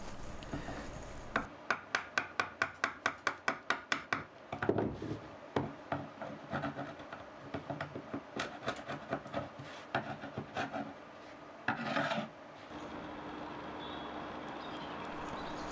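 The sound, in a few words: old chisel scraping epoxy and glue off a workbench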